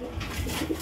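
Pigeons in a loft give soft, low cooing murmurs, close by and muted, with faint rustling around them.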